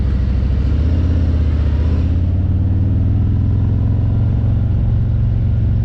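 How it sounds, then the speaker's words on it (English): A 2021 Harley-Davidson motorcycle idles with a deep, steady rumble, and the engine note shifts and lowers slightly as the clutch is let out and the bike begins to creep forward, close and loud throughout. "when I try to let off the clutch just a bit, the bike starts moving forward"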